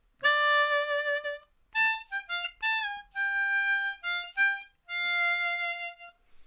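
C harmonica playing the chorus line of a song, clear sustained reedy notes in a phrased melody with short breaks between bends and held tones, close and solo.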